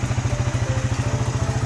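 Motorcycle engine running while its 5-pin full-wave regulator is wired up and checked with a voltmeter, a close, steady rapid low putter with evenly pulsing beats, heard alone.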